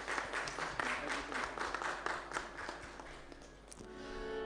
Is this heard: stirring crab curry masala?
no